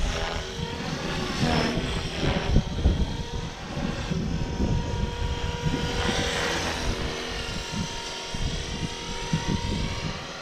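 A Blade Fusion 360 RC helicopter on 6S power whines and buzzes steadily nearby, its rotor pitch rising and falling as it maneuvers, with a constant rushing drone throughout.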